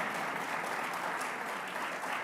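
Audience at a New York press conference clapping in a steady, sustained round of applause, moderately distant and without speech over it.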